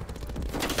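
Rapid gunfire from an overpowered gun in a video game, a fast rattling burst of closely spaced shots at steady volume, with no talking.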